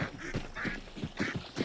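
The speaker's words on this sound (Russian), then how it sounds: "Утки. Утки." Several ducks quack in quick bursts in the online shooter Hunt: Showdown, a loud, close, repeated honking chatter with no talk over it.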